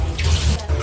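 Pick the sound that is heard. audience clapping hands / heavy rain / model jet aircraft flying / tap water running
tap water running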